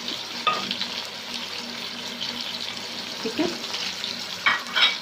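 Spices sizzle and get stirred in hot oil for a moong dal tadka: red chilli powder, turmeric and whole dried red chillies. A steady close fry hiss runs throughout with a few spoon scrapes and clinks, and a brief spoken word.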